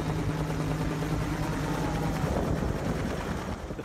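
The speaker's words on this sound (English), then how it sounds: "The sky still crowded with helicopters." Several helicopters circle over a bushfire, their rotors and engines forming a steady, continuous drone with a low hum running through it and no voices.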